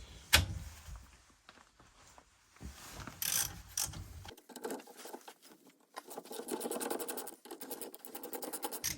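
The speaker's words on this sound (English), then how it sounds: "I need a T55 socket. Nice big ratchet." Ratchet with a T55 socket works on a rear brake caliper of a Porsche Boxster, giving a few scrapes and clanks, then a steady run of quick, close metallic clicks over the last seconds.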